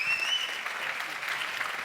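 A short burst of steady clapping from a group, moderately loud, with a brief high whistle-like tone at the start.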